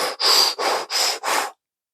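Natural relaxed breathing demonstrated by a person, four loud breathy inhale-exhale bursts in a steady rhythm, close and alone, ending in silence.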